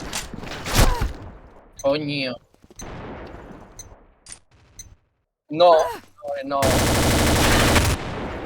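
Bursts of automatic gunfire and single shots crackle in the Combat Arms Reloaded game on the Ghost Town map, with a long sustained burst near the end; a player exclaims briefly between shots.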